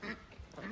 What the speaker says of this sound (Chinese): 你看这个鸭子有个领头的，看见没有？